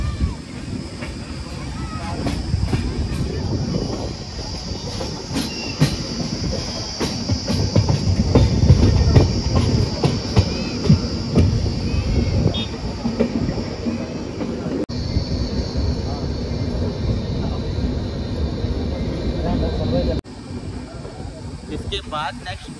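A passenger train on the Durg to Puri route in India rumbles steadily from onboard, with rhythmic wheel clatter and a loud, continuous roar while someone talks over it.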